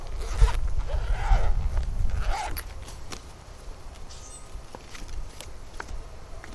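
The zippered pocket on a Jackery SolarSaga 100W solar panel is unzipped close up, with a few quick zipper pulls followed by quieter fabric handling and rustling.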